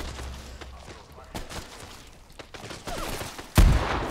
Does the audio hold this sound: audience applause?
no